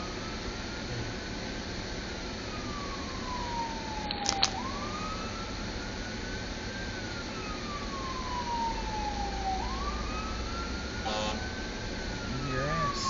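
An ambulance siren wails, sweeping up and down repeatedly, steady and fairly loud over a constant Las Vegas traffic hum, with a brief sharp knock partway through.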